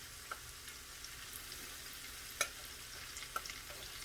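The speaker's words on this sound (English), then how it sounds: "Can you hear it sizzling?" Okra sizzling in a hot pan of vegetable oil, a steady bright hiss broken by a few sharp pops, heard close up with no talking.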